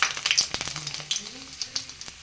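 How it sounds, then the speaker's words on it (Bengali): Dried red chillies crackling and sizzling in hot oil for a tempering, a bright spitting fry with irregular pops close by, over faint speech. "এখন ফোড়নটা দেব, ফোড়নে দেব শুকনো লঙ্কা"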